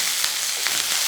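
Garlic and green chilli fry in hot oil while being stirred for a Kerala-style egg chilli, giving a steady, close hiss of sizzling with faint scraping throughout and no voices.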